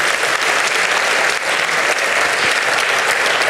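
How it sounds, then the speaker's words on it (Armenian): A crowd claps in steady, sustained applause that fills the room at close range, dense and even throughout with no voices rising above it. "Եկեք ծափարենք։"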